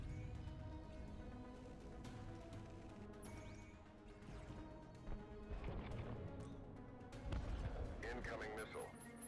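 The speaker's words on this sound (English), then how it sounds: "Missile launched." Missile launch in the space strategy game Breachway, heard as dense booming blasts and crashing impacts layered over continuous game sound effects, with a voice talking over the action.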